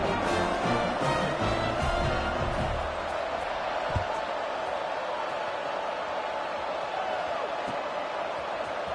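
Stadium crowd at a football game buzzes with broad, steady noise after a score, with a low thump near four seconds and a continuous wash of voices throughout.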